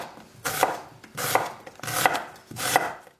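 A knife chopping through an onion on a board, four firm, evenly spaced cuts, close and clear with no talking.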